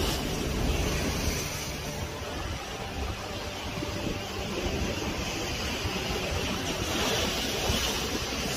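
Stormy winter sea at Cefalù, with loud, continuous surf and crashing waves roaring steadily throughout, mixed with gusty wind noise and no voices.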